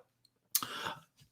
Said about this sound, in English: apologies for all the coughing